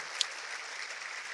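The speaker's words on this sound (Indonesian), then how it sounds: "Tepuk tangan, Bapak Ibu sekalian." An audience at a public talk in Indonesia applauds in a brief, steady wash of clapping that fills the short moment without any voices.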